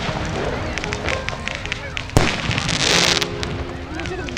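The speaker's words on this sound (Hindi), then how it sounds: "सच में पटाखे ही पटाखे फूट रहे" Dense crackling fireworks and firecrackers go off nonstop during Swiss National Day celebrations in Interlaken, with one sharp nearby bang and a hissing shower of crackle afterward, loud and continuous, while a crowd chatters underneath.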